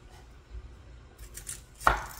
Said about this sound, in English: I'm gonna cut up my sweet onion.